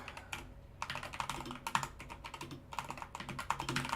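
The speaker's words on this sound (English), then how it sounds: "I'm sorry about my keyboard being loud as hell." Loud computer keyboard typing in a gaming setup, a steady run of sharp, close clacking keystrokes in irregular bursts with no talking.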